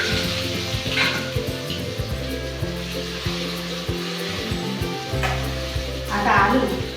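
Cumin seeds and potatoes drop into hot oil for sabudana khichdi, setting off a steady close sizzle with stirring clatter and a low hum running underneath throughout.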